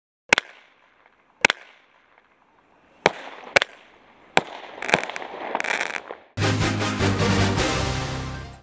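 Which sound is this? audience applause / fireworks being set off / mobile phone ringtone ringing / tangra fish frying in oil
fireworks being set off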